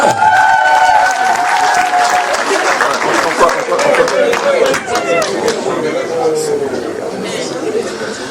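Guests clap and cheer at a 50th birthday party in Corbeil-Essonnes, a dense, steady wash of applause mixed with crowd chatter and voices throughout.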